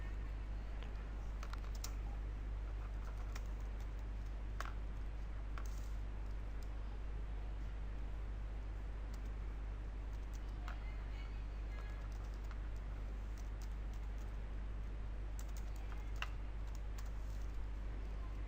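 Soft, irregular keyboard typing, quiet clicks spread across the clip over a steady low hum.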